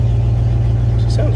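1994–1995 Dodge Ram 1500 pickup engine running steadily just after starting, a loud, close, even low rumble throughout the short stretch.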